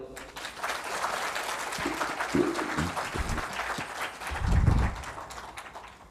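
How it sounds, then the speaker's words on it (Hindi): Applause from a congregation at a spiritual gathering in Dubai, welcoming guests: broadband clapping that runs steadily through the whole stretch, with a low thump and some voices rising underneath near the end. "इनके स्वागत में ताली मारो।"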